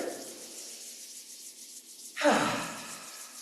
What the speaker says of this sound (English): we can rub the hands together.